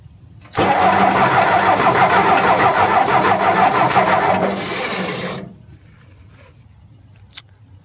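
A Ford diesel engine cranks and catches at full throttle after injection pump repair, roaring loudly and steadily for about five seconds before abruptly cutting out, followed by quiet with a faint click.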